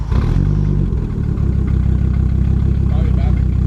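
A 1991 Audi 90 Quattro S2 with a big turbo engine idles close by, a steady low mechanical clatter with a faster rhythmic pulse after a brief rougher start, loud throughout with voices talking over it.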